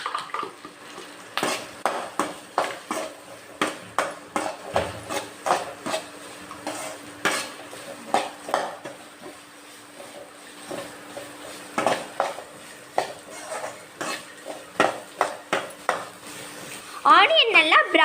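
Onions are stirred in a pan for a Tamil bread poriyal, with repeated sharp scrapes and clinks of a metal spatula against the pan in an irregular rhythm, close and moderately loud, and a faint sizzle near the end.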